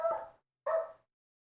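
Two sharp dog barks ring out close by, each followed by a brief pause, with silence between and after them.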